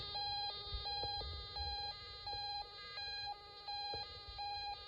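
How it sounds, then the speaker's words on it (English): An electronic siren from a Snap Circuits SC-750 kit speaker cycles steadily between two high tones in a repeating hi-lo pattern, thin and buzzy, with no voices. "the speaker makes ambulance sounds."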